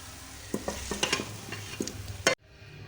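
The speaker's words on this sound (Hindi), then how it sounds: "इस तरह से हम इसको डिश आउट कर लेंगे।" Aloo methi, potato with fenugreek, scooped out of a pan, a quick run of clattering spoon scrapes and knocks against the metal, ending with a final loud scrape before sudden quiet.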